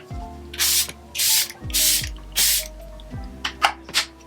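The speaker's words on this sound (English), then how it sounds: "I'm going to spray my face with this Charlotte Tilbury setting spray" Charlotte Tilbury setting spray misted onto a face, a series of short close pump sprays in quick bursts, the last few faster and sharper, each with a click of the nozzle.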